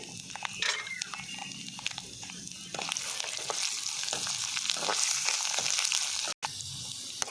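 Curry leaves and garlic cloves frying in a pan for a village-style ivy gourd chutney, giving a steady loud sizzle and crackle with bursts of popping throughout.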